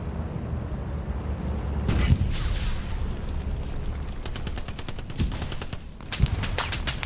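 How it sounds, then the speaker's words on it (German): Heavy gunfire in Hell Let Loose at El-Alamein: bursts of rapid machine-gun fire and single shots crackle over a rumbling battlefield, with loud volleys near the start and rattling strings toward the end. "Der schießt hier böse rein."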